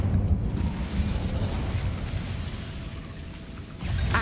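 An Incendio fire spell is cast in Hogwarts Legacy, producing a dense, rushing roar of flame that holds steady and swells again at the end.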